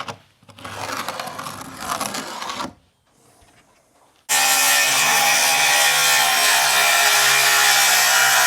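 A 2x10 wooden board is cut with a power saw. A short rasping stretch comes first, then a brief lull, then the saw whines loud and steady to the end.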